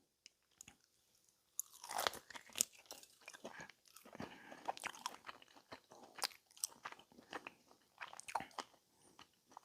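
Crunchy bites and chewing of a curry-flavored snack during a flavor tasting, a steady run of close, sharp crunches and chomps after a short quiet start, with no talking.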